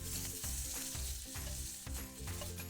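Bacon sizzles on a griddle over an outdoor Breeo firepit, a steady close crackle and hiss with brief louder pops and fat spatters scattered throughout.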